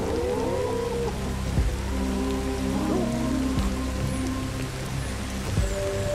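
Steady rain pours in a jungle in the game Ancestors: The Humankind Odyssey, a dense continuous patter of drops on foliage with a low rumble beneath and occasional faint animal calls, no voices.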